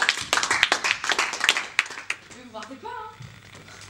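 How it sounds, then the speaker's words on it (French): A small film crew on set claps for an actor's final shot, a brief burst of close, uneven handclaps that fades into conversation and a sung or hummed voice. "Mais on applaudit tous Julien pour son dernier plan."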